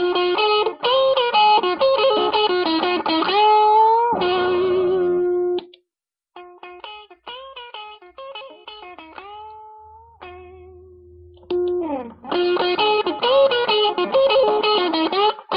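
An electric guitar played through an overdriven boost preamp pedal pushed into heavy distortion, with chords and single notes, short pauses between phrases, loud and close.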